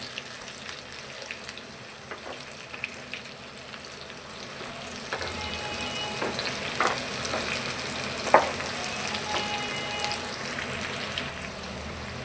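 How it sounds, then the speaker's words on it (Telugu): Boiled eggs fry in oil in a pan for a potato egg curry, a soft continuous sizzle with occasional louder pops and scrapes of stirring, heard close and without talk. "ఇందులోనే ఇప్పుడు ఈ ఉడికించుకున్న ఎగ్స్ వేసుకుందాము. ఇవి కూడా కొద్దిసేపు వేపుకుందాము."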